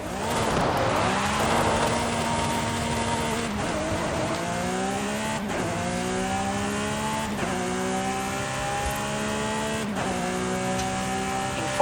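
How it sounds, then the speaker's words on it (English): A Volkswagen Golf GTI racing in Forza Horizon 5, its engine revving and shifting steadily up through the gears in a continuous loud whine, with occasional tire noise. "Which Golf do you want to drive for our little race? I'll take the Golf GTI."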